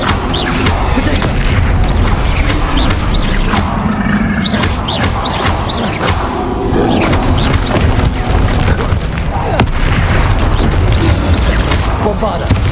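Bombarda spell blasts in Hogwarts Legacy, booming explosions and crashes firing in a dense, continuous barrage with loud combat effects throughout, a voice shouting spell names over them.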